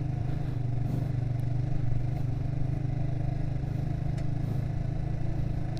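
Motorcycle ride past a sports stadium in Magetan, East Java, with a steady low engine drone and road rumble throughout, plus light clattering, no speech.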